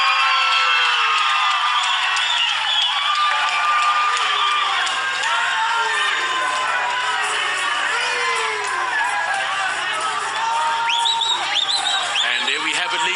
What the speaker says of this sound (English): a round of applause for our new SA champion, Sibusiso Zingange.